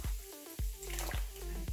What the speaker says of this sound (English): So I'm gonna go ahead and put the sorrel inside of the boiling water.